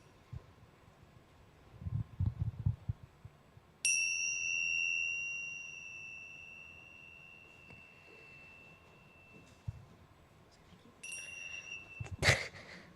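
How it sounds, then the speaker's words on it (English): Bells rung during a church service, two clear bright strikes that each ring out and slowly fade in a quiet room, the first at about four seconds and the second near the end, with faint shuffling noises before them. "ring the bells, and when you can't hear the bells anymore, you can open your eyes"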